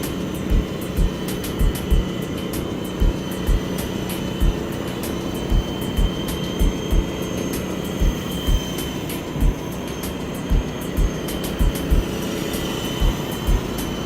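Constant whining rotor buzz of a Walkera V370D01 flybarless RC helicopter in flight, close and steady, with regular sharp ticks recurring every half second or so.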